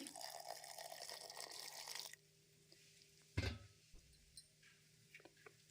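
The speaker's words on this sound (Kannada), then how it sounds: "ಇದಕ್ಕೆ ಸ್ವಲ್ಪ ನೀರು ಹಾಕ್ಕೊಳ್ತೇನೆ." Water poured from a container into a mixer jar holding sweet corn kernels for dosa batter: a steady, close pour lasting about two seconds that stops abruptly, followed by a soft knock and a few faint clicks.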